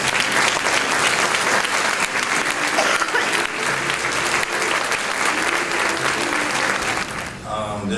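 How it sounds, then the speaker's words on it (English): A crowd at a Summit DD Champions rally applauds a levy campaign's champions with loud, dense, sustained clapping and cheering that thins out near the end. "Let's give them a round of applause."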